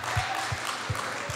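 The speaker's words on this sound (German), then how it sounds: "Mal bitte klatschen" A small live audience gives a few slow, scattered claps, about four soft hand claps at an even pace. The sound is faint against the room's background.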